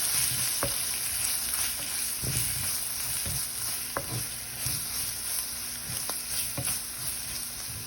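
Chicken hearts frying in a pan as meat masala is stirred in, a continuous soft sizzle broken by several sharp scrapes and taps of a spoon at irregular intervals.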